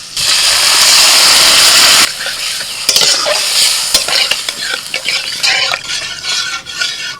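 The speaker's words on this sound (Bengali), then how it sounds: "ডাল আর লাউ এবার আমি ঢেলে দিচ্ছি" Cooked dal and bottle gourd tipped into a pan of frying spices: a loud, dense sizzle for two seconds, then clattering stirs and scrapes of a spoon against the pan as the hiss settles.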